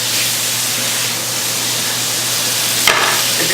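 Beef sears in hot oil for salsa braised beef, a loud, steady hiss and sizzle throughout, with a sharper spitting flare near the end.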